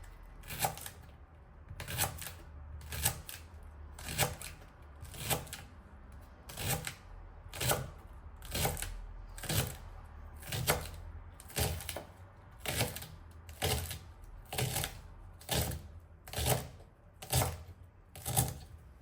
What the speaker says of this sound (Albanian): Në këtë mënyrë bëjmë coptimin e gjithë preshave.